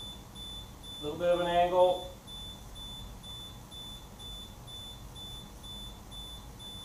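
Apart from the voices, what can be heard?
electronic beeper beeping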